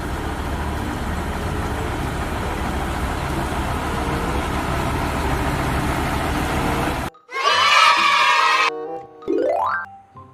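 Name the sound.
water tank fire truck engine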